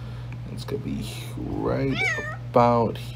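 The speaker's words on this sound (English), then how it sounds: "That's the cat." A house cat on the premises meows twice, close and clear, over a steady electrical hum and a person talking quietly.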